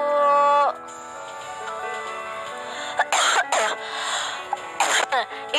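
A person coughs in a few harsh, short bursts, close and loud, mixed with throat clearing, following a sustained tonal sound at the start.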